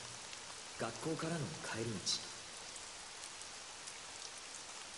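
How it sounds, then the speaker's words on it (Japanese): Steady rain patters in a Granblue Fantasy game scene on a May day on the way home from school, a constant hiss beneath a brief spoken voice. "5月の雨の日、"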